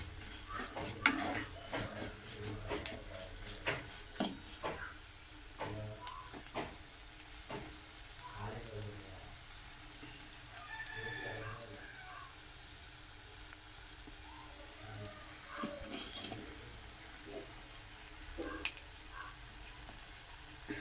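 Prawns stirred and fried in oil with masala, with a steady sizzle under repeated scraping and clinking of a ladle against the pan, fairly close, with no talking.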